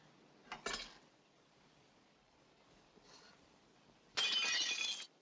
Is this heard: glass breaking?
yes